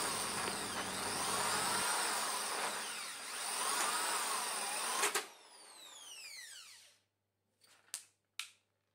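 A Soligen diamond hole saw on a drill bores through ceramic tile for a PVC water pipe hole, whining steadily and loudly before winding down to silence, followed by a few brief knocks.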